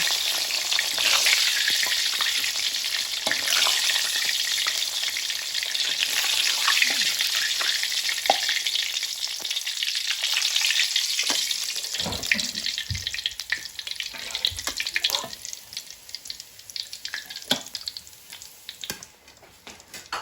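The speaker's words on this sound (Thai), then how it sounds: "แล้วก็จะคั่วพริกกระเทียมนะคะ" Chili and garlic are stir-fried in hot oil left over from frying sea bass, a loud continuous sizzle up close with scattered scraping and clicks of the spatula, easing off toward the end.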